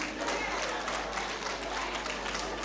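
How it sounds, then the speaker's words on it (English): Audience at a ministerial press briefing claps in a steady, dense burst of applause, heard at a moderate distance. "You are clapping."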